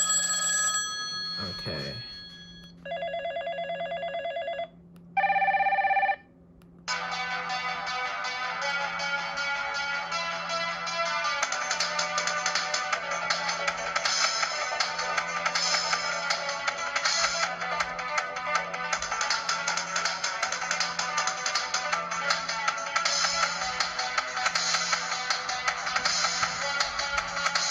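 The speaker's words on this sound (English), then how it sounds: "those ringtones are fire" A Supreme Blu burner phone cycles through several ringtones, short electronic tone patterns with gaps between them, then one long bright melodic ringtone plays on. A steady low hum runs underneath, and a voice speaks once briefly.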